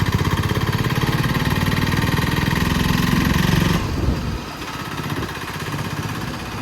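A 2011 Bajaj Discover 125cc DTS motorcycle engine idles with a steady low throbbing, dropping slightly in level midway and settling into a lower, uneven rumble.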